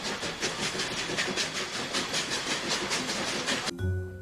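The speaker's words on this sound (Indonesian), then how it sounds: "Wow, yang ini ada kereta lokomotif ya" A toy locomotive gives off a steady rolling train clatter with hissing, like a rail car running on track. It plays loud and continuous for several seconds, then ends abruptly with a brief low tone.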